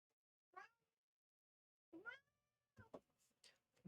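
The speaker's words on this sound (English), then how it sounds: "Cat is demanding biddies." A house cat asking for treats gives several short, separate meows spaced out over a quiet room, fairly close, with a louder sound cutting in at the very end.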